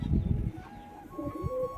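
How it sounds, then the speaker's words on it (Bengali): Low, soft pigeon cooing murmurs in short pulses, fairly close, with a quiet outdoor background and no talking. "এই যে পায়রাগুলো ঘুরে বেড়াচ্ছে"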